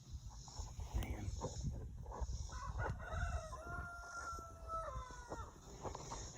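Rooster crowing in a garden setting, several drawn-out crows in the middle of the clip, moderately distant, over steady outdoor background noise and faint rustling.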